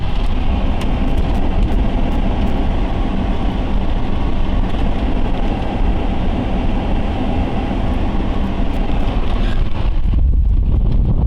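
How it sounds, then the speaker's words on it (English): A car driving down rural back roads, with a loud, steady rumble of engine and road noise close by, unbroken and without talk until it eases slightly near the end. "I'm driving down the back roads."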